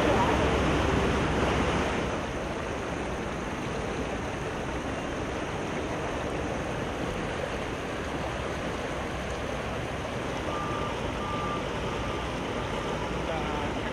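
Floodwater rushes down a normally dry ravine in Atacama after rare heavy rain, a loud steady roar with wind buffeting the microphone throughout and no clear talk.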